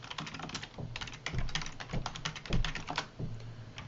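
Rapid typing on a computer keyboard, dense irregular key clicks with a few heavier thumps, close and clear with no voices.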